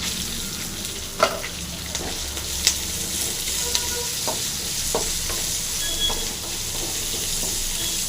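Large onions and garlic frying with chili in a pan for a brinjal and chili masala gravy, a steady close sizzle with occasional light taps and scrapes of a stirring spoon, no voices.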